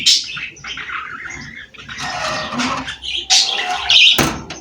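A newly bought pair of pet pigeons gives several short chirping and squawking calls at close range, in irregular bursts with brief pauses between them.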